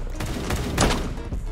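A handful of quick gunshots fired in Da Hood crack close and loud in a brief rapid cluster, with the middle shot standing out strongest.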